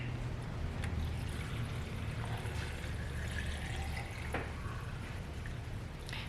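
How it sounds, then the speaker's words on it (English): White distilled vinegar poured into a jar of pine needles, a steady liquid pour with light trickling and splashing that runs continuously throughout, close and moderately quiet. "I'm going to fill this up with white distilled vinegar."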